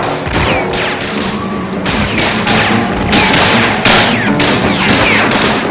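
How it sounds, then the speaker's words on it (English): A chaotic barrage of bangs and cracks, loud and dense, as gunfire rings out amid a noisy, distorted crowd at a parade near Notre Dame, Paris, 1944. "again there was gunfire"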